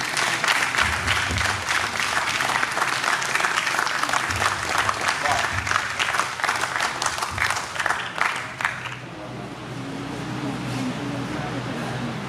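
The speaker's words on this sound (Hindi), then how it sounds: "कितना अच्छा लग रहा है जब तालियां गूंज रही हैं" Audience applause at a Hindi poetry recital at a literary festival, dense loud clapping filling most of the clip before cutting off to quieter room sound with a voice.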